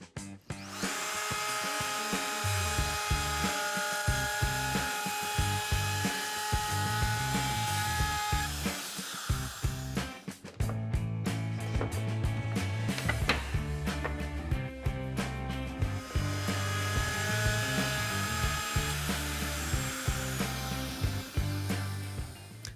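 A power tool cuts dados in wood, running a loud sustained whine with rough cutting noise across two long passes separated by a brief pause, with no talk.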